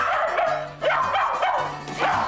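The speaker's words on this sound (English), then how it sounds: "Just ignore the bark." A dog barks and yips in quick repeated bursts during a training session at home, close and fairly loud against a busy, noisy room background.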